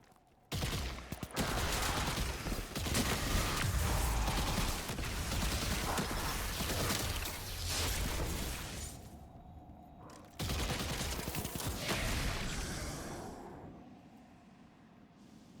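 Gunfire in Destiny 2 as a player shoots at symbols. Dense, rapid shots rattle continuously for several seconds, break off briefly, then resume in another sustained burst before fading.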